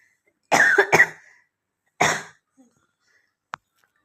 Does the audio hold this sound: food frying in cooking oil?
no